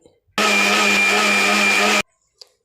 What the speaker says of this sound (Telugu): ఇప్పుడు దీని మొత్తాన్ని బ్లెండ్ చేసుకోవాలి